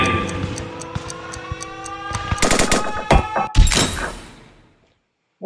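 Revolver gunshots fire in the video game Henry Stickmin Collection as a series of sharp cracks, bunched in a rapid volley in the middle, before fading into silence.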